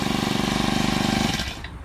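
Small gasoline engine on a high-pressure power sprayer for pesticide spraying and car washing, running with a loud, steady, close buzzing drone that drops off sharply near the end.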